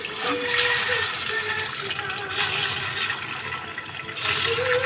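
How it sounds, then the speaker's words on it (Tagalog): Water splashes and runs steadily into a cooking pot for boiling sweet potatoes, a continuous pouring rush that lasts the whole time with slight surges. "Lagyan natin ng tubig"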